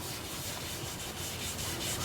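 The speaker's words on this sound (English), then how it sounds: "This is sanding sealer I'm applying. Shellac-based sanding sealer." Shellac-based sanding sealer is rubbed onto a spinning maple wood turning, giving a continuous soft, even friction hiss, faint and close with no voices.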